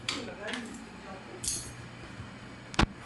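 A set of keys jingles indoors, giving a few brief, light metallic clinks spaced out over a quiet, hushed room background.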